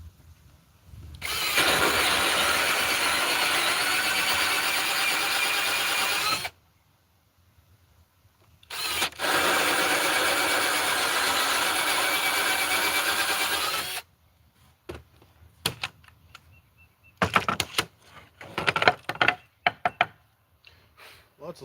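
Power tool sawing wood to build egg holders, two loud sustained bursts of whining motor and cutting lasting several seconds each, followed by scattered knocks and short clattering sounds.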